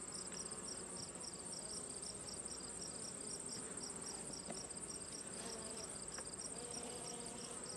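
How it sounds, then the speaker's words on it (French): Honeybee drones fly around an open hive over a brood frame, giving a steady, continuous close buzzing drone with a constant high whine that holds evenly throughout, with no talking. "On a des petits faux bourdons qui font des vols de temps en temps."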